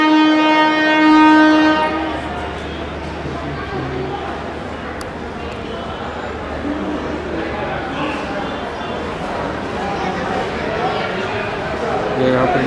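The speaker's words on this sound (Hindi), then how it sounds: "देहरादून स्टेशन के अंदर आए तो सामने एक ट्रेन खड़ी है" A train horn sounds for about two seconds at Dehradun railway station, then a rumbling train and platform bustle continue, with people talking throughout.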